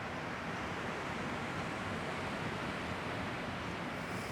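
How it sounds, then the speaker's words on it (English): Ocean waves crash against a shore in a steady, unbroken wash of surf that stays even and moderately loud throughout, with no voices. "The waves crash against the shore, constant and unyielding."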